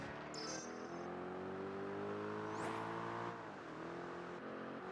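A racing car in Project Gotham Racing 3 on the Vegas Strip holds a steady engine drone, then its pitch rises and dips sharply as it brakes, all fairly faint with no talk.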